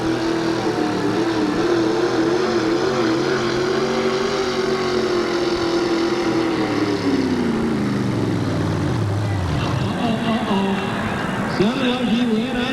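A monster truck at a 1987 USHRA event in Oakland: its engine roars loudly and continuously, with the pitch holding steady and then sinking as it bogs down, over a roaring crowd and arena noise.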